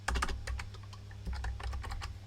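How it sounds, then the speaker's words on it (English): Rapid typing on a computer keyboard during live programming, close-up irregular key clicks in quick bursts with brief pauses, no speech. "I never use the tilde on the keyboard."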